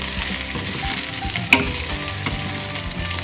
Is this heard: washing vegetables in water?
no